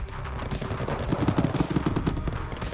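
Rapid, crackling bursts of an artillery barrage in a wargame strategy game, dense and continuous with a few sharper thuds near the middle.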